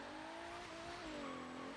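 An Alfa Romeo Milano Quadrifoglio Verde's V6 revs steadily, a smooth sustained engine note that dips slightly in pitch partway through, heard close and alone for a couple of seconds.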